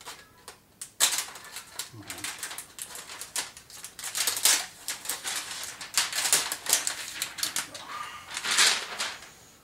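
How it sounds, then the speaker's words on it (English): A razor blade slicing off the protective cover from a Simpsons arcade game control panel overlay, a steady run of scratchy, crackling cutting and peeling sounds close by with faint taps mixed in. "With my razor, cut off the cover."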